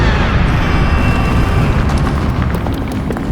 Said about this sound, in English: The sound of the explosion carries throughout Thunderbolts Mountain